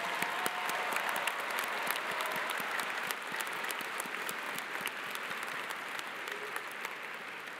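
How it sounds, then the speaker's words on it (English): A commencement audience applauds four graduating students at a Cleveland State University fall ceremony, a sustained dense wash of many hands clapping at steady volume for several seconds. "Please clap for all four of these wonderful students."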